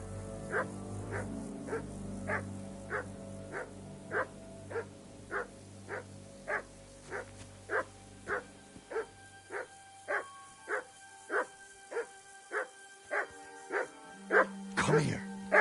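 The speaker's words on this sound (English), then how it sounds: "Here, Mutt" Dog barking in Kingdom Come: Deliverance II, a steady run of about twenty evenly spaced barks over low game ambience, ending in a louder burst; talk is present.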